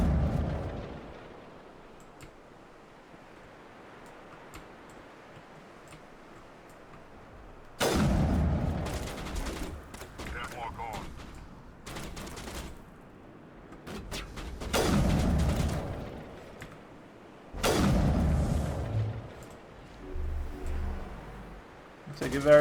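Sniper fire in the Massive Effect video game sounds as several sharp, loud cracks with booming tails, spaced a few seconds apart after a quiet opening stretch, with low background sound and occasional talking.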